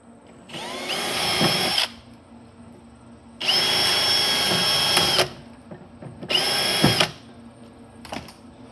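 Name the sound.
power drill drilling holes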